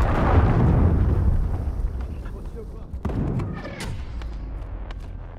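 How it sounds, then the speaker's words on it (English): A cruise missile strike explodes in the game Call of Duty: Modern Warfare II, a loud deep rumbling blast that rolls and slowly fades, followed by a few sharper thuds and lingering low noise. "Friendly cruise missile inbound."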